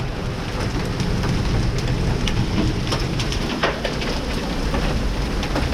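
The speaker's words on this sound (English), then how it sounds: "The sound that you're hearing is the rain hitting the hail hitting the rain pipes." Heavy rain and hail drumming on metal rain pipes during a hailstorm in Winnipeg, Canada, a dense continuous roar with scattered sharper impacts, no talking.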